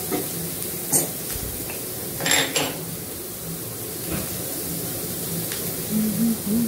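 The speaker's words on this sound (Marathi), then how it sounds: "आला, लसूण आणि ह्याचं शॅलो फ्राय करून घेऊचा" Ginger and garlic shallow fry in a pan: a soft, steady sizzle with close metallic clinks and scrapes of a spoon stirring against the pan, coming at intervals.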